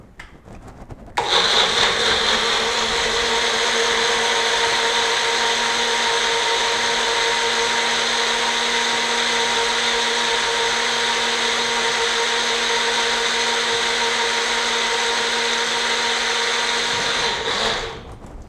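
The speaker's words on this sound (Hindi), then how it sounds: "यह मिक्सी में लगा दीजिए" Kitchen mixer grinder blending plant-based milk: a loud, steady motor whine starting abruptly, running continuously for about sixteen seconds, then cutting off.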